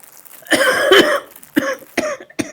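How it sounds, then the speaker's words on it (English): A woman coughs several times in short, harsh bursts, loud and close, with brief pauses between them. "I'm sorry about her coughing"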